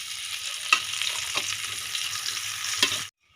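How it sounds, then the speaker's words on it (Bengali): Ground mung dal frying in ghee in a wok makes a continuous, bright sizzle with a few scraping stirs, then cuts off abruptly into silence. "বেটে রাখা মুগ ডালটা দিয়ে দেব।"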